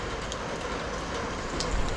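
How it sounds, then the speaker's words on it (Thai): Steady rain patters and hisses evenly all around on a rocky sea shore, a soft continuous wash with no voices. "มีฝนตกครับ"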